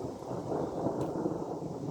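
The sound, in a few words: thunder from lightning storm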